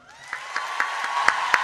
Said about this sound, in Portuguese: Queria uma salva de palmas, Marcelo de Holanda.